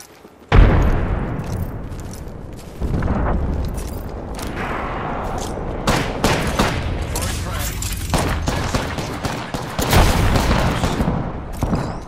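A frag grenade detonates in a shooter video game, a sudden loud boom followed by a dense spell of gunfire and further blasts, with a voice talking over the action.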